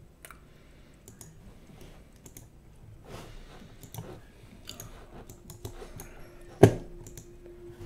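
Keys clatter on a computer keyboard during a live Roblox UGC and map-making session, a steady stream of soft clicks heard from a distant microphone, with one sharp louder knock near the end.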